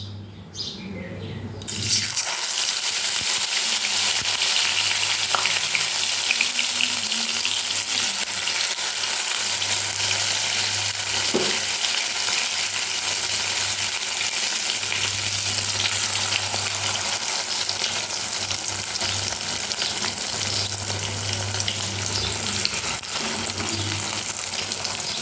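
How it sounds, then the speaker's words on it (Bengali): Chicken pakoras frying in oil in a wok, a steady loud sizzle running on without a break, with a faint low hum underneath and no talking. "এবার কড়াইতে তেল দিয়ে পকোড়াগুলোকে ভেজে নেব।"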